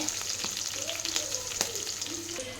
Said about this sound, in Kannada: ಚೆನ್ನಾಗಿ ಇದು ಫ್ರೈ ಆಗಬೇಕು ಚೆನ್ನಾಗಿ